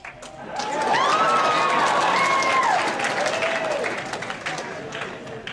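An audience at a comedy show at Anime Expo 2012 breaks into loud sustained clapping mixed with whoops and rising cheers, swelling then slowly fading.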